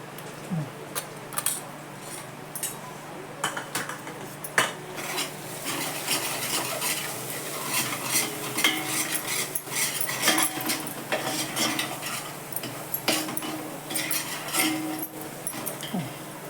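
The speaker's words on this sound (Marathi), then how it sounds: "मस्त असा मसाला परतून घेते थोडंसं" Homemade whole-spice garam masala and Kashmiri red chili powder being sautéed in a pan for spicy mutton, with steady scraping and rasping of a spoon against the pan and a low background hum throughout.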